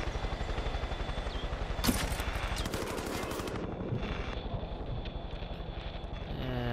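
Rapid gunfire bursts in Far Cry 5, a string of close, loud pistol shots firing in quick succession over wind noise, with no talking.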